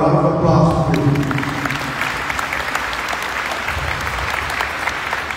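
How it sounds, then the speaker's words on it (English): At a Team Marianas send-off ceremony for the Pacific Mini Games, the audience breaks into a round of applause. The clapping swells and holds steady as the amplified speaker's voice trails off at the start. "Let's give yourselves a round of applause, please."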